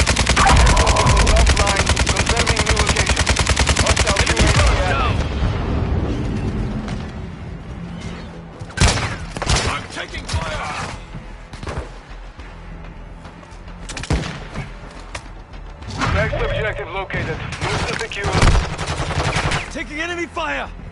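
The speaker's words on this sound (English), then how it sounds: "Taking enemy fire!" Video game firefight with bursts of automatic gunfire and scattered single shots, loud at first, then intermittent cracks over a busy battlefield mix with some game voice chatter.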